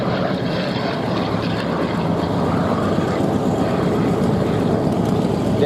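A Corsair naval fighter's propeller engine at the Duxford air festival, a steady droning roar that holds at an even level from some distance.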